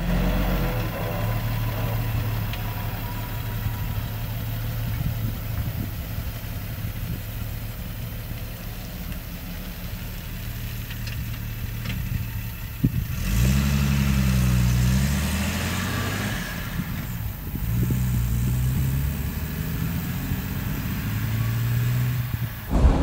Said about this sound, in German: Jetzt fahren wir noch ein bisschen.